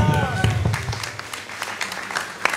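Scattered clapping from a round-table meeting audience in France, irregular sharp claps over a low murmur of voices and some room sound, fairly close and moderately loud.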